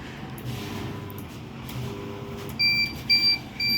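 A curtain track motor receiver gives a short run of thin, high electronic beeps, roughly three quick chirps near the end, over a steady background hum and faint room noise.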